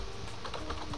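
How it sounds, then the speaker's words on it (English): Typing on a computer keyboard while configuring a Cisco switch interface in Packet Tracer, a steady run of quick, close keystrokes filling the brief moment with no voices. "and we type"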